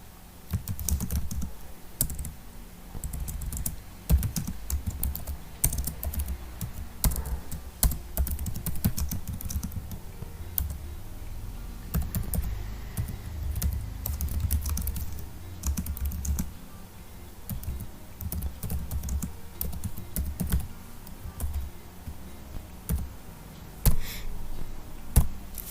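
Computer keyboard typing to enter a slide topic, a long run of close, crisp key clicks in uneven bursts with short pauses, no voices.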